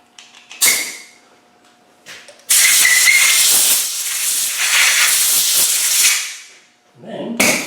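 Compressed air blasts loudly into an engine flywheel housing to clear out debris, one long hissing burst of several seconds after a couple of brief puffs, with clattering and a voice in the background.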